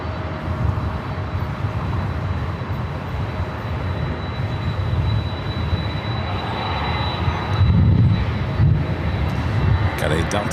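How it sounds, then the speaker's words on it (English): Delta Boeing 767 airliner on approach to LAX runway 24 left, a steady jet roar that swells louder toward the end, with people talking faintly over it. "Got a Delta 767 heading to 24 left. You can hear it."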